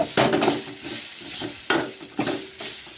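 Spices dry-roasting in a pan for a mutton curry paste, giving a dry crackling hiss broken by repeated scraping stir strokes, close and fairly loud with no voices.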